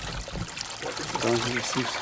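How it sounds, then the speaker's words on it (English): A stream of flowing water trickles past fields near a mountain village in eastern Mexico, a steady close wash of water running under a voice speaking. "On the way to their fields, they pass the stream."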